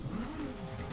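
A Toyota Supra races in Need for Speed Most Wanted, producing a brief, loud, rough engine drone that holds steady for about a second without speech.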